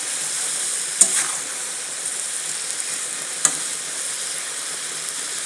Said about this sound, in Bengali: মশলার সাথে সবজিটা একদম কষে যাবে, গুঁড়ো মশলা তো